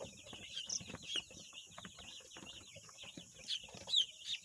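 Chickens cluck in short bursts while being handled for vaccination drops through the nose on a village farm, with sharp high calls standing out near the start and end over a busy rustling background.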